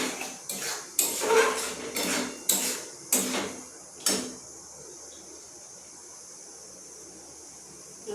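Metal utensil clanking and scraping against a pan as spiced mushrooms go into a home-cooked mushroom curry and are stirred; several sharp knocks in quick succession over about four seconds, then only a low background hiss.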